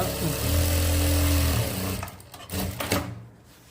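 A sewing machine stitches a curved seam on a men's shirt, running in a steady, close, droning whir for about two seconds. Then it stops and a few irregular clunks and rustles follow.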